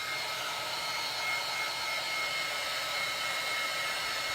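Hair dryer blowing over a Halloween porch sign freshly painted with shimmer paint, a steady close whoosh and motor whine held evenly throughout, with no talk.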